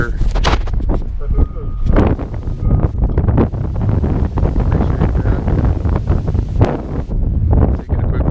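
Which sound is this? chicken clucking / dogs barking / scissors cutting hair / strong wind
strong wind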